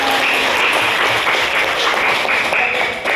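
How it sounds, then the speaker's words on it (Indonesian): A class applauds together at the close of a lesson, a steady roomful of clapping with faint voices mixed in underneath. "tepuk tangan buat kita."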